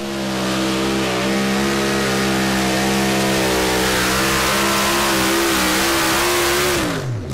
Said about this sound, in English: Slowly off the line and then throttled to the floor.